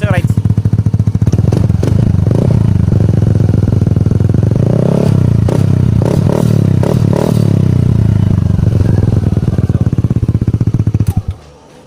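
A Yamaha Aerox v2 scooter with its exhaust silencer removed, revving hard and close, a loud raspy roar that rises and falls for about eleven seconds before cutting off abruptly.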